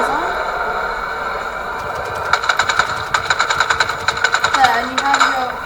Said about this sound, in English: you have your very own gun that shoots out stuff